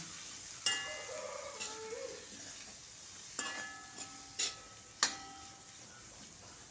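Coconut dry-roasting in a pan over a medium-to-low flame: scattered scraping stirs over a faint, steady sizzle, fairly quiet and close.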